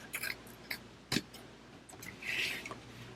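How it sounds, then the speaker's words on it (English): Scissors snip through fabric on the back of a zipper overlay while sewing a purse, giving a few quiet, separate cuts with short pauses between them. "We're just cutting the fabric on the back of the overlay away"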